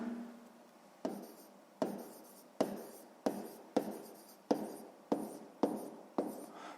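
Pen or pencil writing by hand on paper during a sixth-grade maths exercise, a series of about nine short scratchy strokes in a steady rhythm, close and fairly quiet, with no voices.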